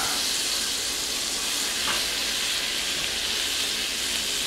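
Garlic sizzling in melted butter in a pan, a steady close hiss of frying that holds level throughout with no talk.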